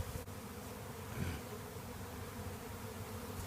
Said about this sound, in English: Lots of bees congregating on the corner of fence.